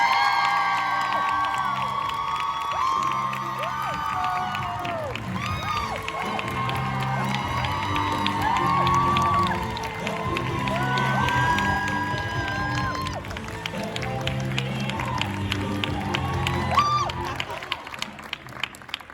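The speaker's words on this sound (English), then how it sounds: "Let's give them a nice round of applause." A Supernatural fan convention crowd in Nashville cheers, whoops and applauds loudly and continuously as stars take the stage, with music and shouts mixed into the roar and a few sharp claps standing out near the end.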